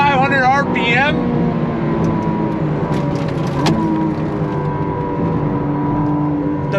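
A 2025 McLaren Artura Spider's engine revs hard toward 8,500 RPM, a rising, sweeping engine note that climbs quickly at the start and then holds a loud, sustained roar, with a voice talking over it.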